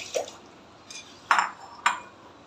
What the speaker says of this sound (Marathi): अजून एका पाण्याने मी वॉश करणार आहे